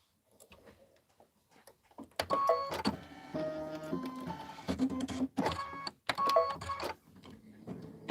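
An embroidery machine stitches with a mechanical whirring and rhythmic ticking that starts after a few faint taps, running in steady bursts with short pauses, fairly quiet, with no talking.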